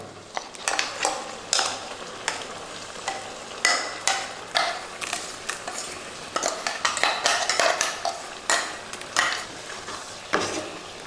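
Ground coconut paste is stirred into a Kerala-style pumpkin and cowpea erissery in a pot, with repeated close clinks and scrapes of a spoon against the metal in an uneven rhythm.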